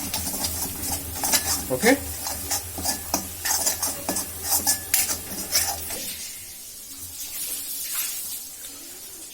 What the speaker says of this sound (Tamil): இது வந்துட்டு லோ ஃப்ளேமில் ஒரு நிமிஷம் நீங்கள் இது பண்ணிக்கலாம், ஃப்ரை பண்ணிக்கலாம்